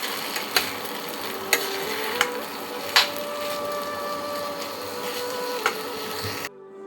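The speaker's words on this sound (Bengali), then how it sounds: "গরম মশলার গুঁড়ো দিয়ে এবার একটু নেড়ে নেব।" Banana-stem pulao sprinkled with garam masala powder is stirred in a pan, with a continuous soft sizzle and scraping broken by several sharp clicks of a spatula against the metal, ending abruptly.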